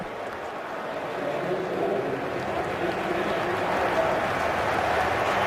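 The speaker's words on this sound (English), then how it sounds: "The Eagles are applauding as if to say he's short." A steady, loud stadium crowd roars and claps at an NFL game between the Dallas Cowboys and the Philadelphia Eagles in Philadelphia, a dense wash of noise that swells slightly and holds with no break.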